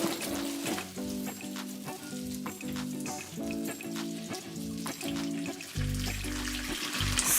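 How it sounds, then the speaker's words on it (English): Hot water is poured over large bamboo leaves for making zongzi, a steady splashing pour heard over a repeating musical backing throughout. "So now we're gonna pour hot water."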